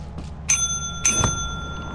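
Two bright bell rings sound in the video game Lethal Company, spaced about half a second apart, each with a sustained metallic ring that decays slowly over a low rumbling background.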